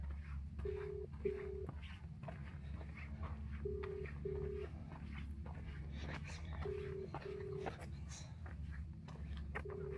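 A telephone ringing tone on an outgoing call sounds as paired short beeps that repeat three times at even intervals, faint beneath low background noise.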